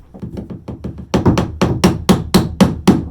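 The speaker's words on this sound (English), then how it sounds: "I can use my finishing nail hammer." About a dozen sharp, evenly spaced hammer blows strike bent flooring nails with a finishing nail hammer, the first several lighter and the later ones heavier and louder, each ringing briefly in a close, dry space.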